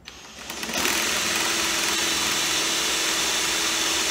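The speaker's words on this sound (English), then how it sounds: "drill the second hole" A power drill boring a hole while building a seat box trolley and platform, spinning up within the first second into a loud, steady, close whine that holds without pause.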